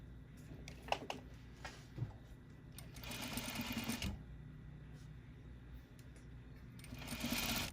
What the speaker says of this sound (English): we're going to go ahead and stitch to make our casing.